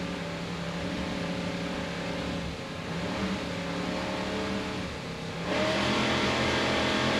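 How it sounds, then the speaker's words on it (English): Twin 800-horsepower Mercury inboard engines on a racing powerboat at the start of a race in Daytona Beach drone steadily, then surge louder as they rev up near the end. "Let's listen to those Mercury engines as they rev up and start the race."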